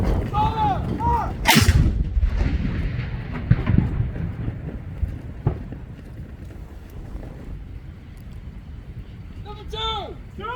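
A ceremonial 21-gun salute cannon fires on a rainy Remembrance Day, one huge booming blast echoing and rolling away, with wind buffeting the microphone and a commander shouting orders before and after.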